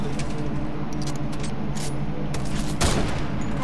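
Gunfire in Fortnite as shots hit a player's built stair: rapid, dense bursts of shooting throughout, with a sharper, louder blast near the end.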